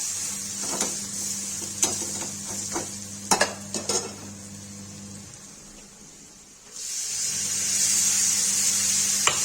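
A spoon stirring red chili and turmeric into Kashmiri baingan in a pan, with scraping and knocks against the metal over a low frying sizzle that swells louder toward the end.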